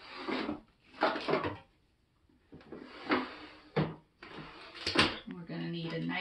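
A kitchen drawer is pulled open and pushed shut several times with sharp wooden knocks and slides, mixed with clinking utensils and a person speaking nearby.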